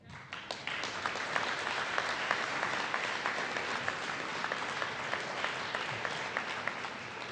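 Graduates applaud their parents at a high school commencement ceremony, dense sustained clapping from a large crowd filling a hall, steady and even throughout with no speech over it.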